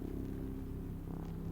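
A small cat purring in the video game MIO: a low, continuous rumbling purr, steady and close, with no voices over it.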